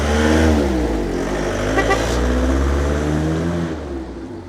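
A Mercedes E320 car engine runs steadily close by at an outdoor car meet, a loud, continuous low rumble with a brief rise near the middle, easing off slightly toward the end.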